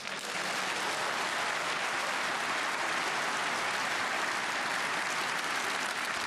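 An audience at a snooker match at the German Masters breaks into sustained, dense applause that rises quickly and holds steady, loud and close, with no voices over it.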